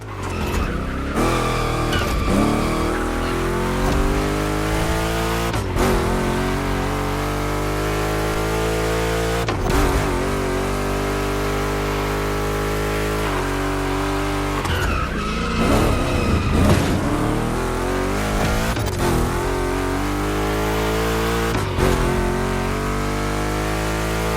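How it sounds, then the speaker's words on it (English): Two Chevy big-block race cars in The Crew Motorfest video game roar continuously at high revs, with engine pitch rising and dropping through gear changes and tyre squeals on tight turns, loud and close throughout. "2 Chevys, 2 big blocks, but only 1 winner."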